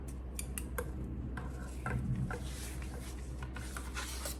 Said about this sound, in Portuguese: Vou fazer um pique aqui pra marcar o centro.